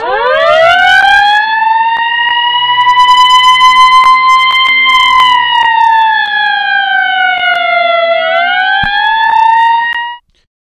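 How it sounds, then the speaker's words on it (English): A loud, close siren wails in a long, slowly rising and falling tone that holds for about ten seconds before cutting off abruptly. "I hear an ambulance"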